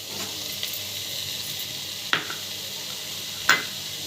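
Onions and carrots sizzle steadily in a frying pan, a soft continuous hiss with a few sharp stirring clicks from a utensil, close and alone with no voices.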